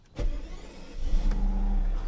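A car engine cranks on a jump starter and catches, rising into a steady low rumble that swells louder toward the end; no talking.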